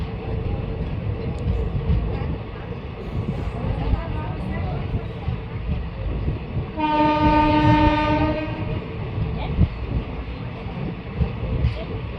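A train rumbling into Khijadiya railway station in Gujarat, India, close by, with one long horn blast partway through and a person talking over the steady rolling noise.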